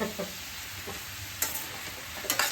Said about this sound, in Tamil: இப்போ இதெல்லாம் நல்லா வதங்கிட்டோம்.